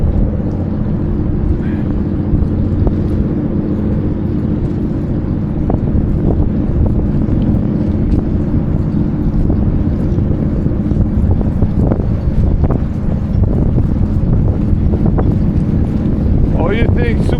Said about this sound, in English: the wind is hitting me this way